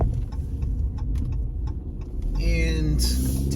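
A car moves at an airport rental car return, with a steady low road and engine rumble, brief clicks and rattles, and a rising whine near the end.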